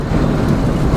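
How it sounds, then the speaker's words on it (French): Strong storm wind gusts buffet a parked car near Mount Cook, a loud, dense roaring rush against the body, steady and unbroken over a brief moment with no voices. "Petite séquence vent."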